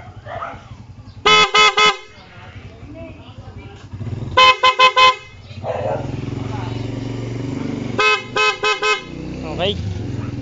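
A PIAA dual horn fitted to a Raider 150 motorcycle honks in three loud bursts of several quick toots each, separated by stretches of idling engine and low background noise.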